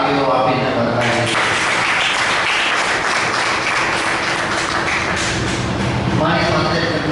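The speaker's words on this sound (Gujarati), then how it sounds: "ઘણી વધારે તાળીઓ આપીને વધારી" Audience applause at a commemorative event, a dense burst of clapping from a modest crowd filling the room, holding steady for several seconds with speech around its edges.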